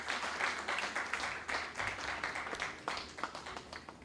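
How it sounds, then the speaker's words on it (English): An auditorium audience gives steady, sustained applause as a defending-champion team walks on stage at the national finals of an inter-bank quiz competition. The clapping is dense and even throughout. "with a thunderous round of applause, please"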